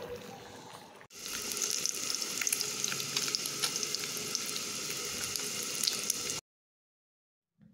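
Eggs frying in hot oil give a steady, bright crackling sizzle with scattered pops, continuous for about five seconds after a brief quieter start, then cutting off abruptly into silence.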